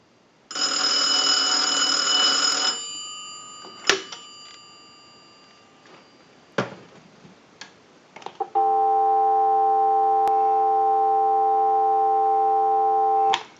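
One last ring burst from a Cincinnati Bell payphone, then a few clicks and clunks, followed by a steady continuous dial tone humming loudly to the end.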